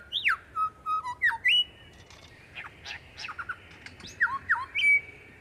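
Lyrebird in the bush imitating other birds with loud, clear whistles, sharp squawks and chirps that sweep up and down in pitch, coming in short phrases with brief pauses between them.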